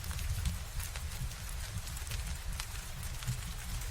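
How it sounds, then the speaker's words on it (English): Rain patters steadily and softly outside a sleeper train bound for the Scottish Highlands, a continuous low, even wash of drops at a gentle, distant level with no voices. "And the rain stays outside"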